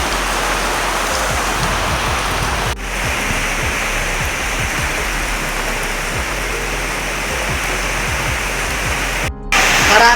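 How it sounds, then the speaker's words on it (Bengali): Heavy rain with strong wind on a stormy morning roars as a loud, steady wash of dense hiss, unbroken for the whole stretch apart from one brief dip. "বাইরে প্রচণ্ড বৃষ্টি, শুধু বৃষ্টি নয়, বৃষ্টির সাথে খুব হাওয়াও দিচ্ছে।"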